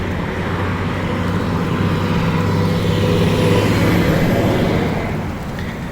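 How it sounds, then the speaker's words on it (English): A Porsche pulls out on a street in Key West, its engine rumbling steadily at close range for several seconds, then easing slightly as it moves off, with other traffic faintly behind it. "There's a Porsche pulling out."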